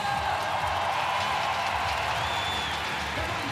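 Partisan home crowd at a women's bandy gold medal game between Russia and Sweden, a steady broadband roar of cheering and clapping that fills the whole stretch at constant loudness.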